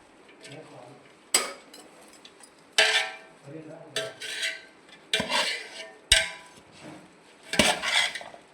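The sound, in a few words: stirring salt into rayta chili mixture in a dish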